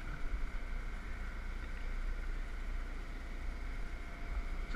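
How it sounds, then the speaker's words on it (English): A quiet, steady diesel drone hums beneath a 34-foot boat, constant and unbroken, with a faint whistling tone riding above it. "He's got the diesel engine down there, so it's kind of noisy."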